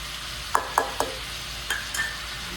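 Onions and bell peppers fry in a pan on medium-high heat, a continuous close sizzle broken by a few sharp clinks of a utensil stirring against the pan, no voices.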